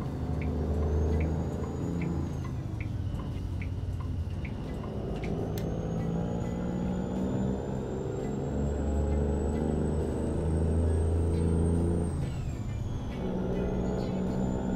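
Truck engine in American Truck Simulator revving and dropping as it shifts up through the gears, a loud, deep rumble with rising whine that falls sharply at each shift, a hiss of air brake near the start.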